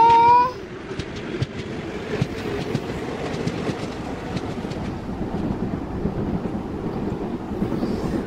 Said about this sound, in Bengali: চলো দেখি আসে কিনা ট্রেন।